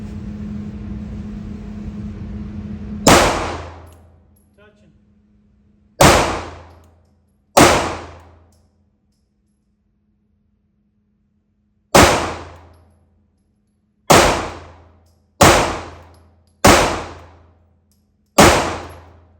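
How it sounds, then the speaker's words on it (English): A Sig P365 AXG Legion pistol empties a magazine at an outdoor range, firing seven loud, sharp reports at uneven intervals, each followed by a ringing decay. A steady low hum sits under the opening seconds. "Let's go ahead and dump this mag."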